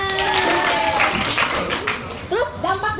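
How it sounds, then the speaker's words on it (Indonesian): Pupils in a classroom give a short burst of applause during a lesson on bullying, with voices mixed in among the claps. "Ya, betul, beri tepuk tangan."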